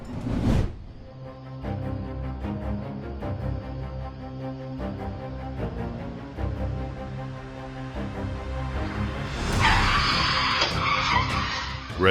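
A car skids through a reckless high-speed turn, its tires squealing loudly over a straining engine roar, ending in a harsh noisy burst.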